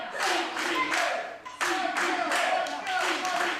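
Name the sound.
wrestling event crowd clapping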